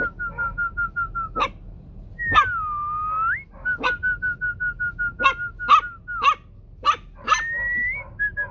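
Fluffy white Bac Ha puppies yip and bark in short, sharp bursts, close by, mixed with thin whining whimpers and rising whistle-like squeals across several seconds.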